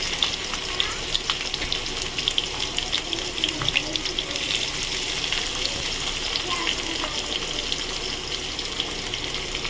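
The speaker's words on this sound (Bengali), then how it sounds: "এবার আমি আলুটা ছেড়ে দেবো, আলুটা ভেজে ফিরছি।" Potatoes frying in hot oil in a wok, a continuous watery hiss and sizzle with scattered crackles and occasional clinks of a utensil, steady and close.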